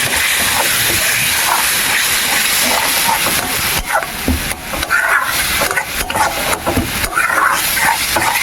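Spice paste with cumin and turmeric sizzles loudly in a pan of fried-fish oil after a splash of water, a dense steady hiss with stirring scrapes breaking through in the second half.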